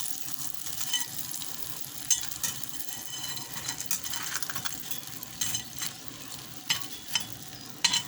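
Mackerel frying in a pan, a close crackling sizzle broken by scattered clinks and scrapes of a utensil, with no one speaking.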